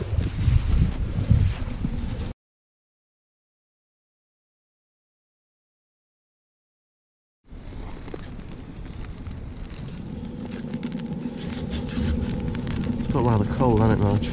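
Storm Erik's wind and rain buffet a hillside near a castle campsite, a loud steady roar of gusts over the microphone with a long silent gap in the middle, and voices talking over it.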